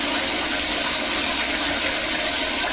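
Steady broadband rush of water pouring from a tap while an aquarium air pump is rinsed clean, continuous and fairly loud with no talking.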